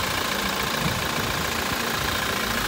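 A 2016 Toyota Prado GXL's 2.8 litre turbo diesel engine idles with a steady, even rumble from close by, with no talking over it.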